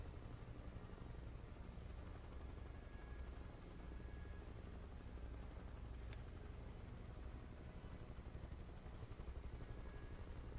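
Bell UH-1 Huey helicopter engine and rotor noise in a flight simulator, a steady broadband drone with low thumping, constant and fairly loud throughout.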